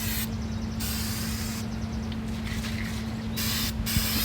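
Spray paint stripper hisses from an aerosol can onto a metal toolbox in several bursts of a few seconds each, close and fairly quiet over a steady background hum.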